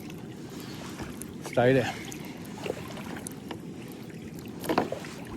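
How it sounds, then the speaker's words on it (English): A kayak paddles along a tidal creek at high tide, with faint soft splashes and water movement under a brief spoken phrase and low ambient outdoor noise. "We just keep paddling until we see a good spot."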